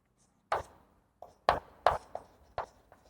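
Chalk or marker strokes on a board during a physics lesson on current electricity, heard as five or six short, distinct taps and scrapes in an irregular rhythm, fairly close and moderately loud with no talking.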